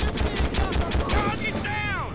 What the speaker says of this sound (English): Somebody's firing. Who's shooting at me?